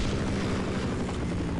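Half-Life video game helicopter hovering nearby, a loud continuous rotor whir and engine rumble with a low pulsing thump, steady throughout with no voices over it.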